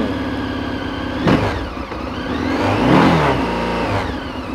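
Morbidelli T1002VX 2025 motorcycle engine with standard exhaust, a loud close mid-pitched rumble that revs up twice, the second swell longer, with no talk.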